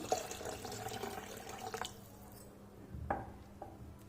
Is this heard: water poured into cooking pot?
yes